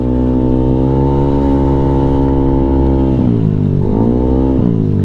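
An Aerox 215cc motor scooter engine idles loudly and steadily up close, its pitch dipping and rising twice as the throttle is blipped near the end.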